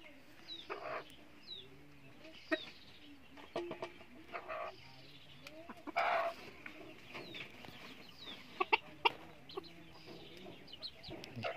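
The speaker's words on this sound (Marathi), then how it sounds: "हे बघा कोंबडी कशी येऊन खायला लागले मिक्स करता करता" Free-range village chickens cluck and call as they run over to eat a mixed feed of wheat and maize inside a netted compound, with scattered calls near and far and a few louder squawks.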